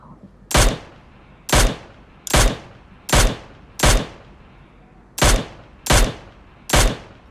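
Loud, evenly spaced single shots from a weapon in a PUBG Mobile solo-versus-squad match at Conqueror tier, eight distinct reports about a second apart, each with a short decaying tail and no talking.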